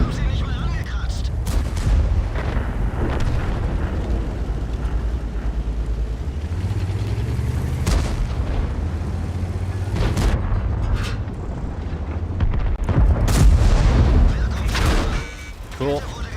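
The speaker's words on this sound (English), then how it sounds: "I love getting hit by artillery." Artillery shells slamming into a tank in World of Tanks, heavy booming impacts and blasts landing repeatedly over constant engine rumble and game noise, loud and close, with a player talking over the action.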